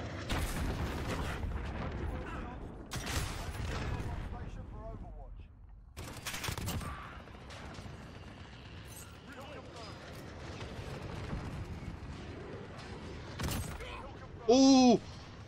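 Rocket explosions in a multiplayer shooter video game: several loud, booming blasts land at irregular intervals among gunfire and game effects, with voices talking throughout.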